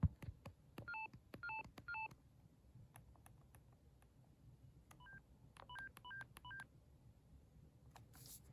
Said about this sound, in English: It only makes the tones when you reach either the lowest or highest possible settings